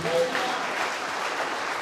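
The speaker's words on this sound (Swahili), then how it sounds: "Mpa makofi mazuri ya utukufu." Congregation clapping at a book launch held at Nyamataro PAG church, a steady wash of many hands applauding together for under two seconds, with a voice briefly audible at the start.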